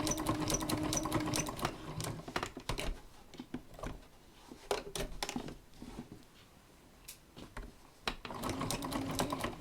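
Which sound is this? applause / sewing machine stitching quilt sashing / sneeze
sewing machine stitching quilt sashing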